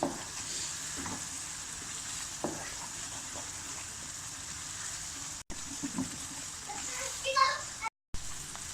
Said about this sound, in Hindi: मैंने 10 मिनट तक लगातार इसी तरह से चम्मच में चलाती रह गई और सूजी को मैंने भून लिया